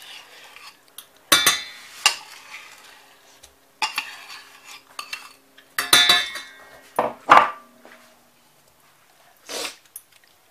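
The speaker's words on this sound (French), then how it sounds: "Donc, maintenant, il faut mélanger ça. Donc, le mélange de sucre et d'œuf jaune." Whisking sugar and egg yolks for a lemon mousse, with a utensil knocking and scraping against a bowl in scattered bursts of clinks, close and moderately loud, between stretches of quiet.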